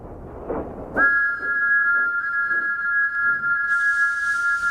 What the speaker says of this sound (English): The sound of Thomas's whistle has changed. Thomas's whistle echoes.